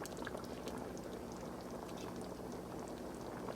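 Haitian stew (bouillon) boiling in a pot on high heat, a steady close bubbling and rolling simmer with no talking.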